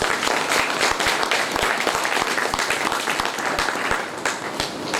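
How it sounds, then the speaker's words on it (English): Audience at an industry-academia link event for a mechanical engineering department bursts into steady, dense applause, many hands clapping close and continuously for several seconds. "Let's give them a big round of applause."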